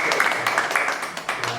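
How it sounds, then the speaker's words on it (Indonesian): Brief, moderate audience clapping after a presentation at a gathering, a scattered patter of hand claps that continues steadily at mid distance throughout. "tepuk tangan dulu untuk"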